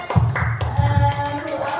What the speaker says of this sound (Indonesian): Tepuk tangan Mas Budi.